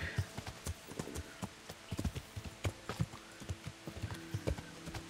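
Horse hooves clip-clop in a steady, fairly close rhythm while riding across country in the medieval game Kingdom Come: Deliverance, the sharp hoofbeats standing out over low ambient game sound.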